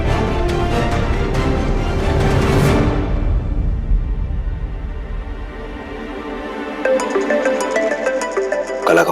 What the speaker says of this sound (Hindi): कला का फोन आ रहा है।